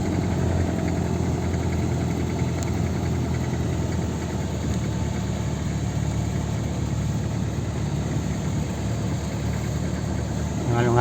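A 3.0 car engine, freshly overhauled, idles steadily nearby with a low even rumble and faint vibration, while someone talks over it.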